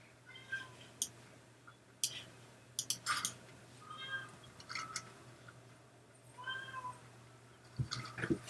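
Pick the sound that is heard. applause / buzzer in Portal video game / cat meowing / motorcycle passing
cat meowing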